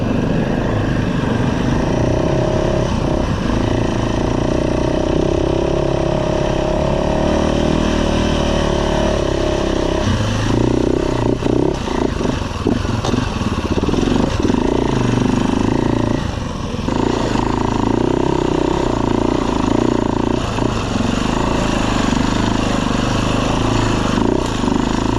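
A Husaberg motorcycle engine revs loud and close throughout, with a slipping clutch letting the revs surge and sag in uneven waves and no talking.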